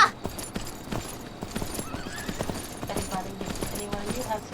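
A horse in the game Myth of Empires clip-clops along at a steady trot while neighing and whinnying, under a mix of game sounds and hoof beats that continue throughout.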